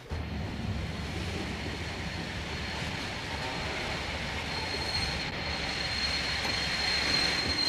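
A train halts on the line, a continuous rumbling hum of rolling stock with a faint high squeal of wheels and brakes above it, steady and moderately loud throughout, with no voices.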